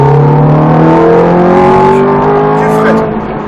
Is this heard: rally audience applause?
no